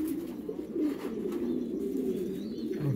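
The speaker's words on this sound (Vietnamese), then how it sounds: "À, chim kêu." French pigeons at a pigeon farm in Tien Thang, Ha Nam coo in a continuous low, throaty murmur, several birds overlapping close by, with faint background rustle.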